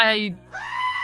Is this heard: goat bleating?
yes